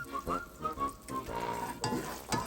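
Fresh garlic cloves sizzle and fry in a pan while being stirred, a steady crackle with brief scraping bursts, close and moderately loud, with a voice speaking over it.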